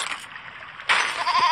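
A goat bleats in the video game There Is No Game, a loud wavering cry that rises after a steadier electronic hum, with no talking over it.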